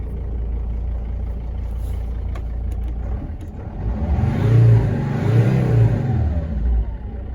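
Mercedes T1N Sprinter diesel engine, idling steadily and then revving up around the middle before settling back. It is close and alone, with no talk over it.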